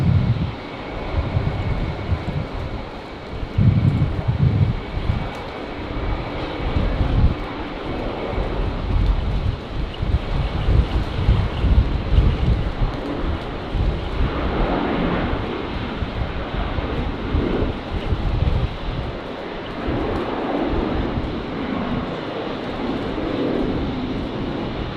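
Strong wind at Brisbane Airport buffets the microphone in a continuous low roar for the whole stretch, gusting louder and softer, with a distant jet engine drone blended underneath and no voices.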